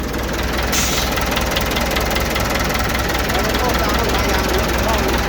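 A car engine runs close and loud in a steady, rough, knocking idle that holds throughout, with talk over it.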